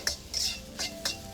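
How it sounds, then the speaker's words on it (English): Egg and rice stir-fried in a wok, with several quick metallic scrapes and clinks of a utensil against the pan in an irregular rhythm over a soft background sizzle, close and moderately loud. "A constant movement when you're stir frying is really important."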